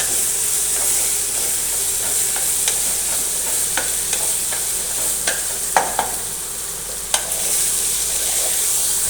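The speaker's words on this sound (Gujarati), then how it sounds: "હવે નાખીશું આપણે લસણ પેસ્ટ આપણે તેને સારી રીતે મિક્સ કરીશું" Garlic paste being stirred into cucumber curry frying in a pan: a steady close sizzle with hiss, broken by intermittent scraping strokes of the spoon against the pan, and no voices.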